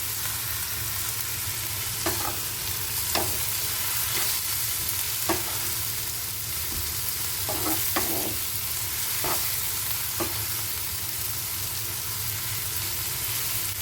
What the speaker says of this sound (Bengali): এরপর সব মশলার সাথে ভালোভাবে মিশিয়ে নিতে হবে।